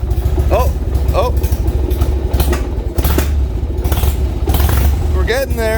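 A troubled Harley-Davidson motorcycle engine idles loud and close, a steady rough rumble with a few blips of throttle, while someone talks over it.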